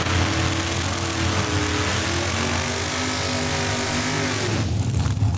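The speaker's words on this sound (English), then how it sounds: "That is the dragster" A dragster roars down the strip at Saskatchewan International Raceway in Saskatoon, a loud sustained engine howl with rising harmonic tones that cuts off sharply near the end, leaving rumbling track noise.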